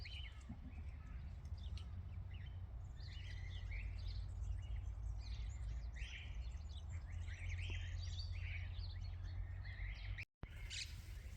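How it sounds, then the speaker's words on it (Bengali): Small birds chirp and tweet continuously in a quiet rural garden near Alès in southern France on a sunny afternoon. The calls are faint and scattered over a low, steady background rumble. "পাখির ডাক ছাড়া আর কিছুই শোনা যাচ্ছে না এখানে।"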